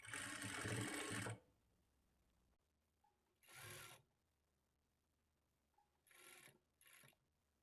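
A sewing machine stitches a blouse lining in a long whirring burst, then several shorter runs separated by pauses, close and fairly quiet.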